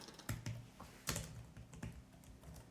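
Clicky keystrokes on a Cherry KC 6000 Slim ultra-flat keyboard, an irregular burst of close, crisp taps with short pauses between them, no voices.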